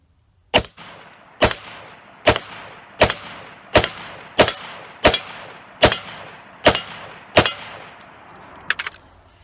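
Ten loud, close rifle shots from an AR-15 firing SS-109 rounds into a steel body armor plate, each a sharp crack with a metallic ring, spaced evenly about three-quarters of a second apart, with a faint extra hit at the end.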